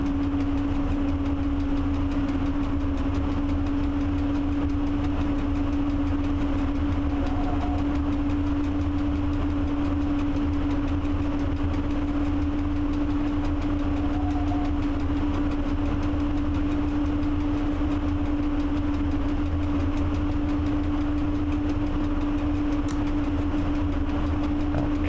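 The engine of a train in the Train Driver 2 simulation drones steadily for about 25 seconds, a constant low hum over rumbling running noise at an even loudness, with no talking.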